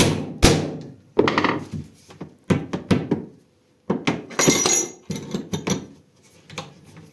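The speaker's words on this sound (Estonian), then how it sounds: "Löön siia korra haamriga peale." While a scythe is being assembled onto a handmade wooden handle, a hammer strikes the handle fitting, giving a series of sharp, irregular thunks with short pauses between them.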